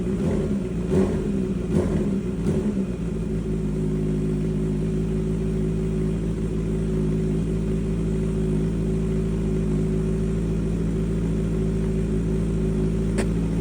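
A Honda CBR650R with a full-system, side-exit exhaust blips its throttle a few times early on, then settles into a steady, deep, rumbling idle that continues close and loud.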